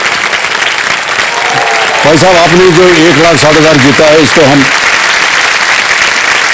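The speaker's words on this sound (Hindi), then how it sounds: "तालियां बज जाए इनके लिए।" Studio audience on the Kaun Banega Crorepati quiz show applauds steadily throughout, while someone speaks over the clapping in a clear, close voice.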